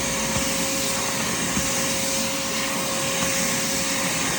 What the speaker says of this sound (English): A handheld vacuum will definitely work for these mats, for this mat here.